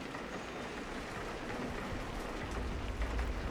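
Steady rain falls on the Moon in a VR video game, a dense, even hiss of drops that holds at constant loudness throughout, with no voices present.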